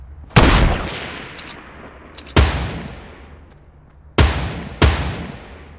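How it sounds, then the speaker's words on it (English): Four loud, booming shots from a video game ring out one at a time, each with a long decaying tail, about two seconds apart at first and then two in quick succession. "I'm shooting at them"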